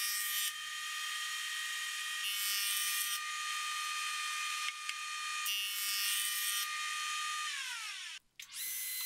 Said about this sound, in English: I'll use my joiner to flatten one of the glued joints and make it perpendicular with the adjoining face.